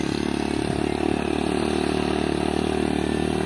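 A motorcycle engine drones steadily and close while climbing a steep slope in the rural Philippines, with a constant mid-pitched hum and no voices.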